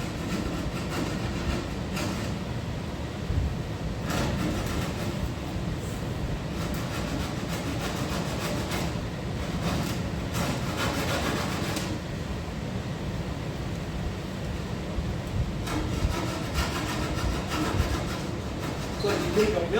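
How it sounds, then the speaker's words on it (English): Fiberglass is rubbed down by hand on the fenders of a 1930 car, a steady scratchy sanding rasp of repeated strokes running continuously, fairly quiet and close, with no talking over it. "That's all I'm doing is making lines and rubbing."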